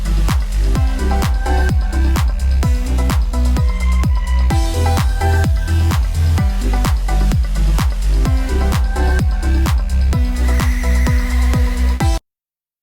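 A 128 BPM electronic dance track with a steady four-on-the-floor kick, its low end pumping and ducking from sidechain compression on every beat, played loud and continuous for about twelve seconds before cutting off.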